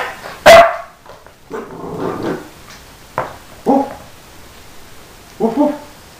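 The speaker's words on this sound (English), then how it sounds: "Good Blaze, shaking and growling." A dog shakes and growls while playing with a bone, giving a sharp loud bark and then bursts of growling and grumbling with gaps between them. The dog is close.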